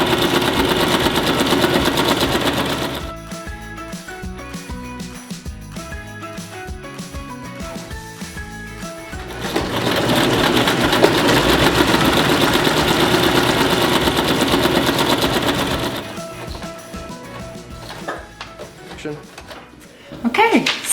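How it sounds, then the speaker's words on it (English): A sewing machine stitches straight lines on fabric in two steady, whirring runs, each several seconds long, separated by quieter clicking and handling of the material. "Okay, so you just sewed 4 straight lines."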